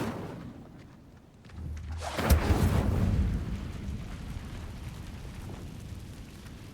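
Incendio fire spell cast in Hogwarts Legacy: a quiet lull, then a deep rumbling whoosh and burst of flame that swells loudly and slowly fades into a crackling tail, no talking.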